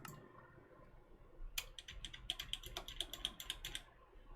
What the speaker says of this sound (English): And I'm gonna try typing a little bit here,